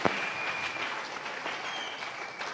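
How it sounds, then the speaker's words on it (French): Church congregation applauding and acclaiming the Lord, a steady patter of clapping with scattered cheers that holds at an even, moderate level throughout. "Est-ce que nous pouvons acclamer très fort le Seigneur?"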